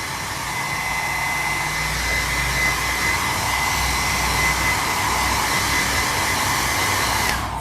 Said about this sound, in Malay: pastikan kita kena keringkan dengan hair dryer